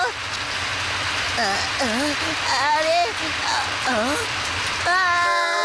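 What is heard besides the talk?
rain falling in a cartoon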